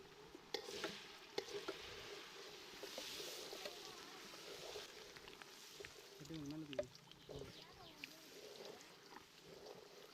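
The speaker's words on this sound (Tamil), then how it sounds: "ஏற்கனவே அரைச்சி தயாராக வச்சுருக்கிற உளுந்து களி மாவை இதில் சேர்த்து கட்டி இல்லாமல் நல்லா கிண்டுறோம்" Urad dal flour dough is stirred in hot sesame oil in a pan, a faint soft scraping and gentle sizzle with occasional knocks of the spoon.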